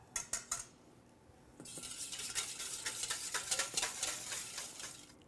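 Wet cornbread muffin batter with rice bran oil is whisked in a bowl, opening with a few separate clinking strokes, then settling into steady, close, rapid stirring and scraping that continues to the end.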